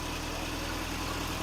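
A Frogeye Sprite's engine idles with the choke partly on, giving a steady, even mechanical drone with a low rhythmic pulse and no other sounds over it.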